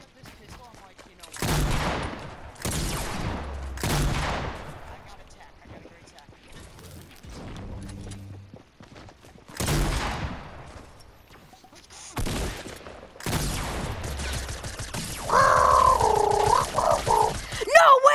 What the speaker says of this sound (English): I shot him with the freaking big shotgun, the heavy shotgun.